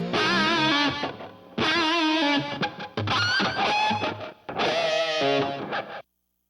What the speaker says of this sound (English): So here it is with the delay and the reverb.